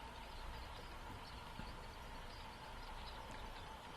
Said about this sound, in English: we see the excursion train going by with squeaky wheels